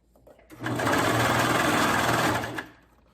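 A sewing machine runs steadily for about two seconds while stitching an elastic hem, the fabric stretched flat under the needle; a loud, close, even motor whir with a rapid needle chatter that starts abruptly and stops cleanly, with no talking over it.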